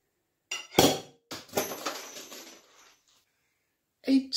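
A crowbar strikes a sparkling wine bottle with a sharp metal hit on glass, then another impact with a rushing, clattering spray that fades out; a brief clink follows after a pause.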